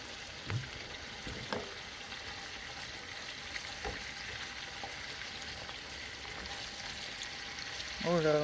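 Fish crisping in a pan over an outdoor fire on a mountain, a soft steady sizzle with a few faint knocks and a brief louder burst of sizzling near the end, no talk.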